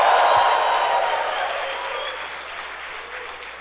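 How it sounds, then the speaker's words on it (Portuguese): A church congregation applauds during a Sunday service, a dense, loud burst of clapping that slowly fades over a few seconds. "Só quem crê, dê um aplauso ao Senhor."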